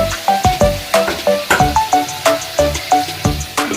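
Vegetables sizzle and fry in a pan for a vegetarian breakfast dish, with loud, regular scraping stir strokes clattering over the steady hiss, close by.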